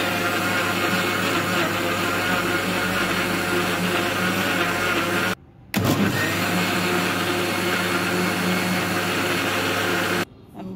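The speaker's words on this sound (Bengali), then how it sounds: "আগে আমি এটা ব্লেন্ড করে নিই।" Electric blender running on a mixture of banana, egg, milk and a little vanilla for a caramel pudding: a loud, steady motor whir that cuts out briefly twice, with no talking.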